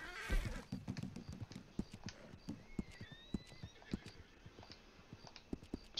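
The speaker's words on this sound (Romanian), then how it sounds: "Între timp să trimit calul de aici și să chem căruța" Horse hooves clip-clop steadily with a whinny at the start, from a summoned horse and wagon in Red Dead Redemption 2, the hoofbeats fairly close and rhythmic over quiet ambience.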